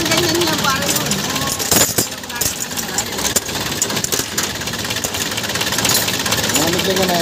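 An Isuzu 4BC2 diesel engine idles after a tune-up, still cold, with a steady loud knocking clatter and rough vibration throughout, close to the listener.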